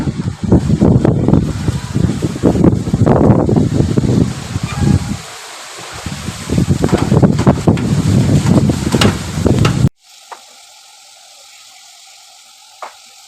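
A loud storm wind roars and buffets outdoors in a gusting rush for about ten seconds, then abruptly drops to a quiet background.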